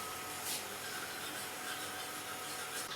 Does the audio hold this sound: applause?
no